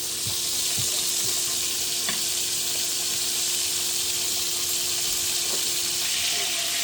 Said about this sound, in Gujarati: આપણું જીરું ને બધું શેકાઈ ગયું છે